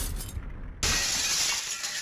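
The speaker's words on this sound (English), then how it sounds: "Oh, oh no, the world's shattering again." Shattering glass effect in the horror game Pocket Mirror as the world breaks apart, a sudden loud crash that sprays into a bright lingering tinkle of shards, close and without speech.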